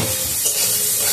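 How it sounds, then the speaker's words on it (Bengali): Whole cumin seeds and cardamom pods sizzle in hot fish oil, a steady close crackling hiss that fills the moment alone, with no talking. "একটু গোটা জিরা দেবো আর দুটো এলাচ দেবো।"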